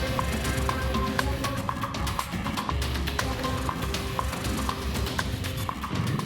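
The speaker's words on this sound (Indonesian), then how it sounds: "seekor sapi korban lepas dan kabur ke tengah jalan saat hendak dibawa pemiliknya" Hooves clatter rapidly on a Jakarta street as a loose sacrificial cow runs, a dense, steady clip-clop rhythm throughout with no voices.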